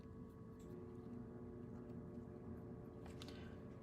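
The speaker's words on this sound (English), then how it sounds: "You might hear my heater in the background too." A room heater runs steadily in the background, a low continuous droning hum with faint tonal whine that holds evenly throughout, fairly quiet and with no speech.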